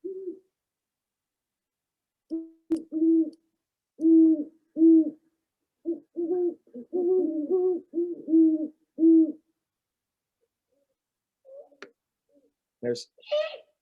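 A female great horned owl hoots in a run of low, evenly paced calls at dusk, close and clear, with a higher-pitched juvenile call briefly audible toward the end.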